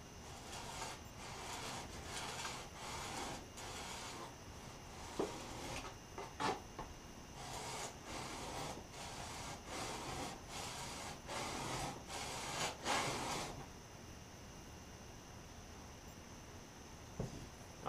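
A wooden jack plane blade is rubbed back and forth on rough-grit sandpaper, producing repeated close scratchy strokes in a steady rhythm for most of the clip, then a quieter stretch with a few faint knocks.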